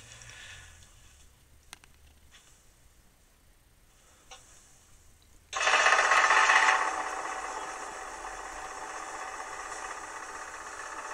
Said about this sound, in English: It has served me well, this little milling machine.